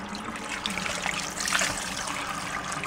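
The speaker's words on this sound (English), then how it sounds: "turn on the water," Water gushes and splashes steadily from a nearby hose, a continuous rushing flow with no voices.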